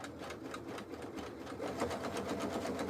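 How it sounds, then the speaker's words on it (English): Pfaff 635 computerized sewing machine running at maximum speed while sewing a jelly roll rug, a rapid, even mechanical chatter of stitches that speeds up slightly partway through, close and alone. "It's a Pfaff 635. And I'm just going to see if I can increase the speed on this."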